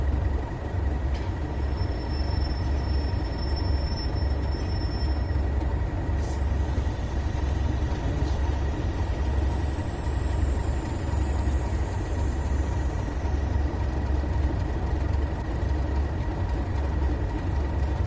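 Trains rolling in a PS4 train simulator game, a steady loud rumble of wheels on rails with a high squeal and tonal whine sweeping over it, no voices.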